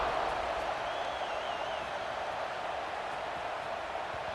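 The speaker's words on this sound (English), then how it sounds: "this crowd is buzzing after that last score" A stadium crowd buzzes after a touchdown in EA Sports College Football 26, a steady, even wash of distant cheering and murmur that holds at a constant level with no clear individual voices.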